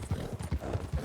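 Horse hooves clip-clopping in the Red Dead Redemption video game, a steady walking rhythm of soft, muffled hoofbeats, moderately close and alone.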